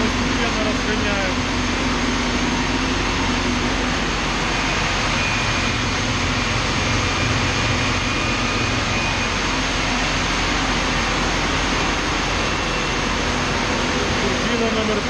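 A turbine at a power plant spins up with a loud, steady roar and whine, a continuous broadband drone with a faint rising tone, up close and unbroken throughout.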